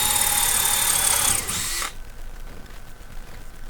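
Power drill boring through a plastic sheet, a loud high whine that drops in pitch and then cuts off, followed by low room noise.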